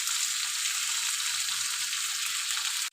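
Turmeric and spices frying in hot oil in a pan while cooking a tilapia curry with yardlong beans and potatoes: a steady, close, even sizzle that holds the whole time and cuts off abruptly at the end.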